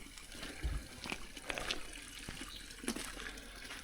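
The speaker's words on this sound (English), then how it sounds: "This river is actually coming down the road here and then filling up, flooding the road opposite our other pond" Floodwater running like a river down a flooded road beside a pond, a steady outdoor wash of flowing water with scattered splashes and trickles, moderately loud and continuous with no talk.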